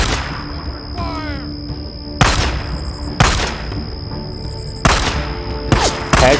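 In Days Gone, a gun fires several loud, sharp shots at uneven intervals, each with a booming tail, over a game backdrop with some voice present.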